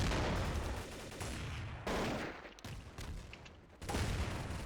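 Gunfire and a grenade blast in the video game Counter-Strike: Source, with bursts of rapid shots and a heavy boom in dense clusters, fairly loud with brief gaps and no talking.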